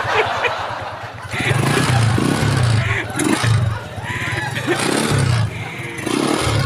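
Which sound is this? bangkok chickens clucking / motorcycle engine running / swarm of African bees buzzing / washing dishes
motorcycle engine running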